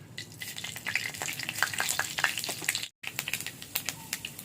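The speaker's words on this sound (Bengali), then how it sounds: "এবার একটু তেল দিয়ে এর মধ্যে দিচ্ছি পাঁচফোড়ন" Panch phoron spices crackle and sizzle in hot oil, a dense run of sharp pops and spits close by, with a brief break midway.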